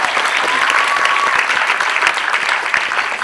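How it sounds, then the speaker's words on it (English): Loud, full audience applause at a Bolles Lower School Grade 5 play, many hands clapping in a dense, even roar that fills the whole moment without letting up. "Give a round of applause."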